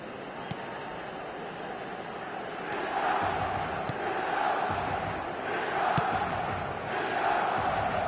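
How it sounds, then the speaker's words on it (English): Football stadium crowd at a Milan match roars and cheers in a sustained, swelling wash of many voices, rising louder midway and staying loud to the end, with no commentary heard. "Certainly gave this crowd something to really cheer about."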